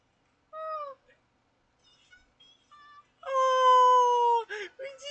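A cartoon cat meows in the detective video game Criminal Case, a series of high, tonal mews, the last drawn out and loud, with brief gaps between calls.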